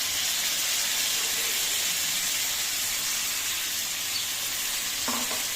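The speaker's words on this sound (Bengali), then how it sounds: "এবার আমি মাংসটা আবার কষাবো এবার আমি মাংসটাই মশলাটা পুরো মিক্স করব ভালো করে" Chicken pieces frying and being stirred with a blended spice paste, a constant loud sizzle with steamy hiss and a brief scrape of the utensil near the end.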